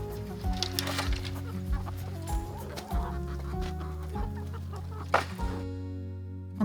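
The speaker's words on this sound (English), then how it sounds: "whatever doesn't fit in the garden I give to the chickens" Homestead chickens cluck in scattered bursts on a winter day, partly buried under a steady melodic music bed that carries through the whole stretch.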